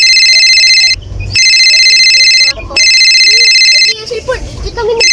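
A cellphone rings loudly and close in repeated bursts of a bright electronic tone, with short gaps between, while people talk over and between the rings indoors.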